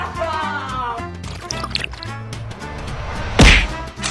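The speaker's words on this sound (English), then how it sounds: "Let's see how hard I can punch after drinking soda." A single sharp, heavy punch lands near the end, a loud whack that follows a stretch of background music, thrown after drinking soda.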